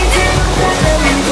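Water gushes out as it is released to drain and clean a resort swimming pool. The rushing, splashing flow is loud and close and holds steady through a brief moment.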